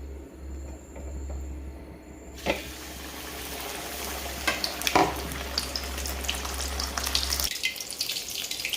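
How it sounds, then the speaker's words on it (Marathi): Tilapia fish shallow-fries in oil, a continuous bright sizzle with occasional sharper pops, over a low steady hum that fades near the end. "हाही फिश आपण असा तळून घेणार आहोत"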